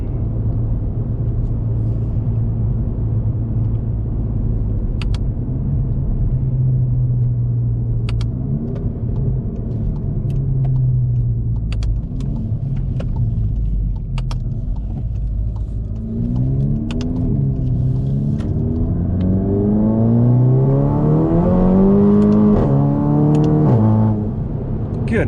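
A VW/Audi with a DSG gearbox drives a winding road, its engine a steady low interior rumble that rises in pitch as it accelerates near the end, with occasional light clicks.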